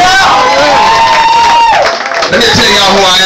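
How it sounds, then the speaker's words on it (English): A concert crowd at the 2012 finale roars with cheers and applause under a loud sustained musical tone, the noise dipping briefly before swelling again. "So give yourself a round of applause real quick."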